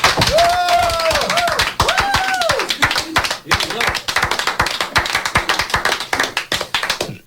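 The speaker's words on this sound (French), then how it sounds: "on applaudit trop fort tellement on est enthousiasmé par ta musique et qu'on a fait du Larsen à l'antenne" Enthusiastic clapping in a radio studio, loud enough to trigger microphone feedback, which shows as howling tones early on. Sharp, close hand claps from a few people keep a fairly steady rhythm, with voices heard in between.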